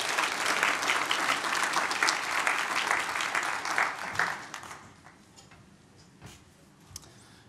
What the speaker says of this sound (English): now please join me in a warm applause